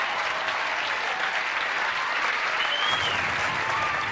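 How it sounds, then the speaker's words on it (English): A television studio audience applauds during a late-night talk show taped as an airplane special, with dense, steady clapping that holds at a loud level from start to finish. "I hear applause in the back of the plane"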